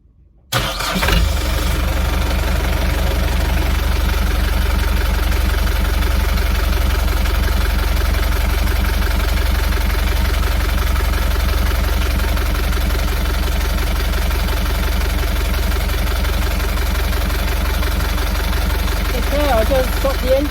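A boat's inboard engine starts up and then settles into a steady idle in neutral, a continuous low throbbing hum that stays loud and even throughout, with faint voices now and then.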